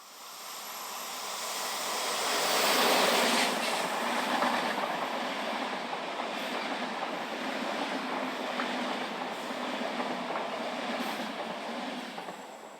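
Italian intercity train led by electric locomotive 444052 on the La Spezia to Milano service, rolling steadily past with a broad, sustained rumble and faint wheel clatter that swells early and holds at a moderate distance throughout, no voices.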